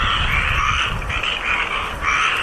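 Frogs croak in a dense, continuous chorus, loud and close, with a steady layered drone and no voices over it.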